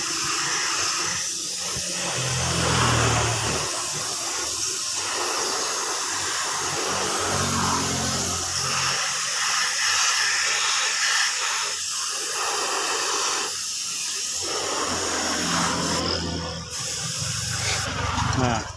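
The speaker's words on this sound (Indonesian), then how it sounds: "merahnya juga perlu kita semprot juga tipis seperti ini, kita tembaki saja" An aerosol or spray gun hisses steadily while red paint goes onto a Honda Blade motorcycle body panel, a continuous close airy spray with brief pauses and a faint low hum underneath.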